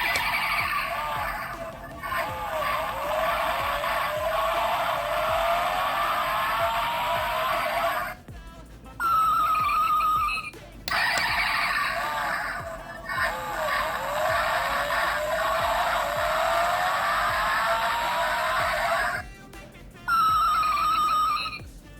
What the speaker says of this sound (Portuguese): ele acende os LEDs e faz um barulho de arrancando e depois uma freada no final